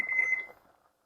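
Kitchen timer going off while pasta cooks, a single bright electronic beep tone about a second long that fades out, close and alone.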